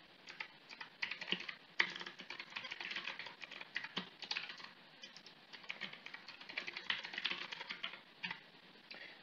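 Rapid, steady typing on a computer keyboard while writing code, crisp clicky keystrokes in uneven bursts with occasional louder taps, close and quiet, no voices.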